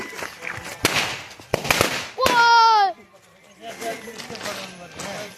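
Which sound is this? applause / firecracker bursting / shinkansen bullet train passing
firecracker bursting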